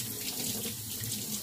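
Tap water runs steadily into a sink while a canning jar lid is rinsed, a continuous splashing hiss with no pauses.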